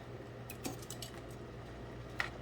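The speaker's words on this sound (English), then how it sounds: "You can take some tongs and just start to spin it. And as you turn it, it will sink down" Metal tongs clink faintly against a pot while spinning pasta down into boiling water: a few light, sparse metallic taps over a quiet, steady background.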